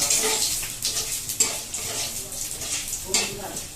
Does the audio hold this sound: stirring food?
yes